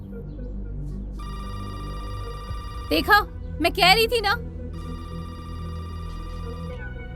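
A telephone rings in steady electronic tones, continuous and fairly loud, while a voice speaks over it briefly midway.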